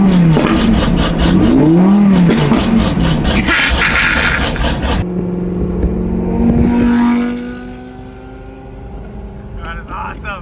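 An 800-horsepower Audi R8 engine revs hard and loud at a car meet, with a rising and falling pitch over a steady roar before it settles into a lower idle, and people talk around it.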